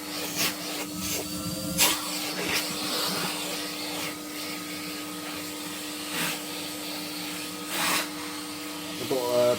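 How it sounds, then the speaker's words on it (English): A vacuum cleaner drones steadily while hoovering the baffle plate of an Ecosy+ Panoramic Slimline wood burning stove, with intermittent knocks and scraping of the nozzle against metal throughout. "I'm just going to hoover the baffle plate."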